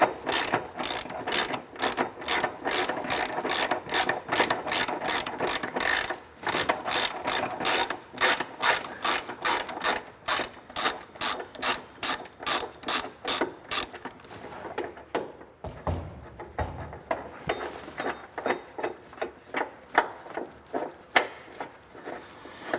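A ratchet wrench removing a 21 millimeter factory bolt from a new vehicle during a step bar install, with rapid, even clicking for most of the clip, then slower separate ratchet strokes near the end.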